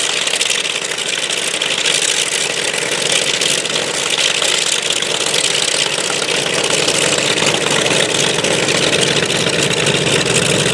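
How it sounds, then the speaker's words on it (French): A light aircraft piston engine runs loud and steady close by before takeoff, a constant droning roar with no change in pace or pitch. "plus il tourne, plus la régularité de rotation et de fonctionnement du moteur est évidente"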